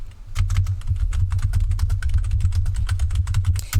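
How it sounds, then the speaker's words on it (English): Fast, steady typing on a very loud computer keyboard, close and continuous, with dense rapid clacks and no talking. "Yes, my keyboard is very loud."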